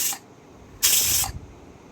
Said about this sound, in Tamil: இப்போ பாருங்கள் இந்த மாதிரி குக்கர் விசில் வந்துடுச்சு